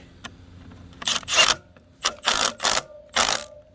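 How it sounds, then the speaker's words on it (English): A ratchet tightens a lock nut on a Kawasaki KE100 motorcycle in four quick bursts of clicking pawl strokes separated by short pauses, close and fairly loud with no talk. "Tighten it up."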